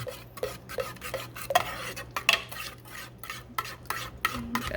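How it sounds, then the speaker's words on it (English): A spoon stirs thick sloppy joe sauce in a crock pot, giving a quick series of rhythmic scraping and sloshing strokes against the pot, close and clear, with no talking. "Stir this up."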